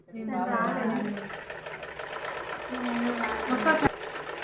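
A sewing machine runs steadily as it stitches along the edge of a piece of fabric, its fast mechanical whir continuous and close, with a voice talking over it.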